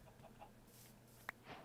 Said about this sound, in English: I just hear a chicken lay an egg.